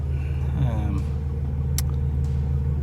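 A 3rd gen Ram Cummins truck engine idles with a steady low rumble close by, while a voice talks briefly over it and a short sharp click cuts through near the middle.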